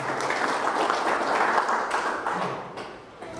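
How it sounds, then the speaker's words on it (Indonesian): A seminar audience claps together in a steady, dense burst of applause that fills the room, then thins and fades near the end. "Aplaus untuk kita semua."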